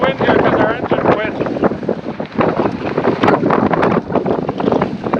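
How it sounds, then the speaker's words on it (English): A sailboat under sail into the wind in Alaska, engine quit, with strong wind buffeting the microphone and water rushing close by while people talk throughout. "We're going to do some sailing into the wind here"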